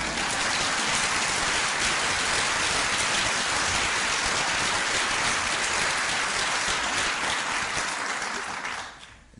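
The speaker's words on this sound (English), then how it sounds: "You can clap for them." A large audience applauds loudly and continuously for three United States senators at a presidential event, a dense roar of clapping that holds steady and then fades out in the final second.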